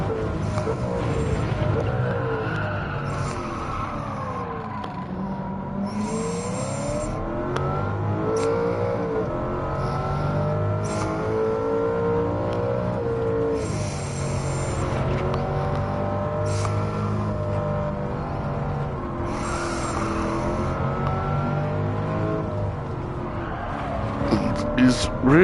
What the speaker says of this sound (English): Such a pretty car and makes such a pretty noise.